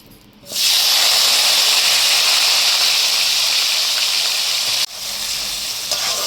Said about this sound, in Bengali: পেঁয়াজটা একটু হালকা ভাজা হোক।